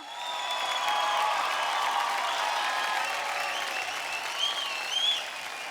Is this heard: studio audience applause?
yes